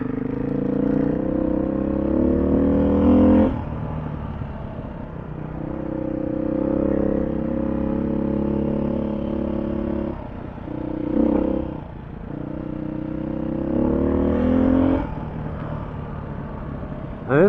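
Dual-sport motorcycle engine droning steadily on a remote Colorado back road, a loud continuous motor note with small shifts in pitch and a few brief dips, with no voices.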